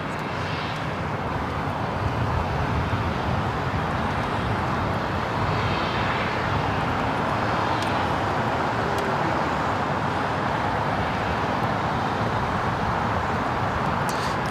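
An Asiana airliner under tow at LAX, heard as a constant broad roar of engines and airport vehicle noise, steady and fairly loud with no clear breaks.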